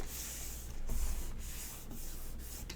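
Paper is burnished down onto a slimline folio mini album, making close, soft repeated rubbing strokes in a steady back-and-forth rhythm with brief taps between passes.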